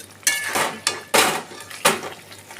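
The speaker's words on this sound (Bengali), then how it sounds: "এবার এই মাছ ভাজাগুলো আমি দিয়ে দিলাম, দিয়ে ভালোভাবে আমি ঝোলের সঙ্গে মিশিয়ে নিচ্ছি।" Fried catla fish pieces are stirred into curry in a pan with cauliflower, giving four distinct close scraping clatters of a utensil against the pan, spaced about half a second apart, with no talking.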